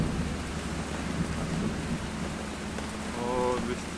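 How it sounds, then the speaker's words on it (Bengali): Thunder rumbles low and steady under a dense wash of heavy early-morning rain, with a brief tonal sound near the end; no speech is heard. "এই যে গর্জন শুনতে পাচ্ছেন আকাশের গর্জন"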